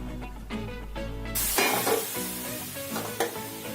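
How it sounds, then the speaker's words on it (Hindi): Sugar syrup poured into roasted halwa in a pan, bursting into a loud close sizzle that then settles into bubbling and stirring. "इसे भूनने के बाद इसमें वो शरबत जो डालना है वो बहुत सावधानी के साथ डालना है।"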